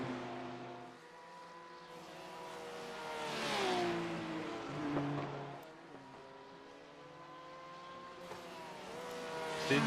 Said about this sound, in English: The engine on the GT3R sounds kind of like a lawnmower in the other room.